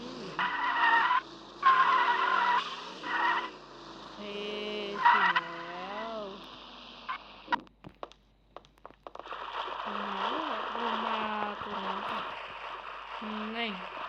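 A car in the Sakura School Simulator video game brakes and skids with a wavering tire squeal that repeats in several long streaks, mixed with engine tones and clicks, under a player's talking.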